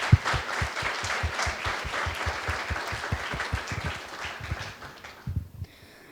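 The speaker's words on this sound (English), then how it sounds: "Let us have a round of applause for the successful inauguration of the PGDM batch" Clapping at a PGDM batch inauguration ceremony, a room of people applauding with a loose, pulsing rhythm that fades and stops near the end, followed by near quiet.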